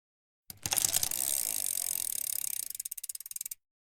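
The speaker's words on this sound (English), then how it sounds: "Bike." A bicycle's freewheel ratchets with a fast, dense clicking that slows into separate, evenly spaced ticks as the wheel coasts. The sound is close and alone, with no talk.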